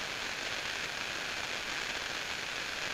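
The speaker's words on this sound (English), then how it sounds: "Where are we getting the rain?" A rain sound effect plays in a tabletop role-playing session: a constant, even hiss of rainfall, dense and unbroken, with no other sounds standing out.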